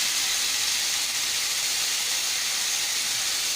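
Garlic and tomatoes frying in a pan make a steady, loud, dense sizzling hiss, close and continuous without break.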